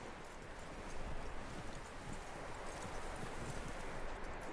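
Horse hooves clip-clop steadily in Red Dead Redemption 2, a dense, continuous patter of close footfalls held at an even level for several seconds with no talk over it.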